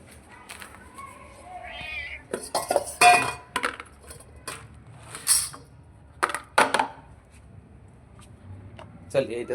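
Plates and dishes clink and clatter while cats are fed gravy, with sharp metallic taps and a scrape scattered under ongoing talk, and a cat meows at the start.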